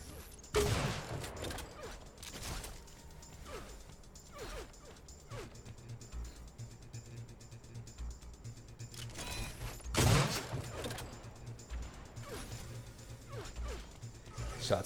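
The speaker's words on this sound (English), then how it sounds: "Shots flying back and forth across the map." Gunfire traded across a map in an Unreal Tournament competitive match: scattered weapon shots and impacts, some sharp and close, others softer and distant, over a low game-ambience hum.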